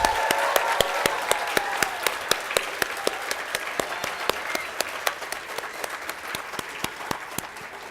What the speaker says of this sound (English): let's give a roaring applause to the Luke Foundation and the planning committee that made this possible